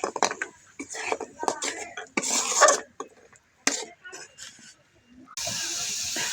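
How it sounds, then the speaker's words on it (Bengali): Lentil dumplings (bori) frying in a pan while fish curry is cooked, giving bursts of stirring, spoon-on-pan clatter and sizzling hiss, ending in a steady close loud sizzle. "এখন বড়িগুলো দিয়ে দেবো, বড়ি দিয়ে কষিয়ে নেব।"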